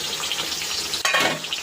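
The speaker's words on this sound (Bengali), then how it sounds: "এখানে বসিয়েছি হচ্ছে মেয়ের জন্য আলু ভাজা" Potatoes frying in a pan give a steady close sizzle, with a brief scrape of stirring partway through.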